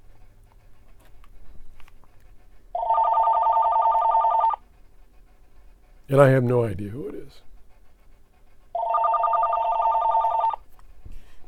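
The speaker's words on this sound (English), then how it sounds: "I'm going to let it ring because I don't recognize the phone number." A telephone rings in two long electronic bursts separated by a pause, with someone talking briefly in between; the rings are fairly loud and close.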